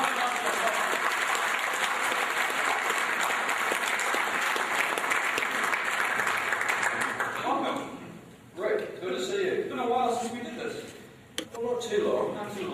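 Seminar audience breaks into loud, sustained applause that fills the room for several seconds, then thins out into scattered claps as a voice begins speaking over the tail end.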